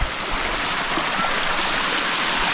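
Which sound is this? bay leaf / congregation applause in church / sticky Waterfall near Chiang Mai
sticky Waterfall near Chiang Mai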